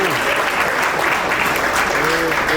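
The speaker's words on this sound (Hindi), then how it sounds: "जोरदार ताली सुंदर से कपल के लिए" Audience clapping loudly for a couple called to the stage at an International Women's Day gathering in Etawah, a dense steady wash of applause from a nearby crowd.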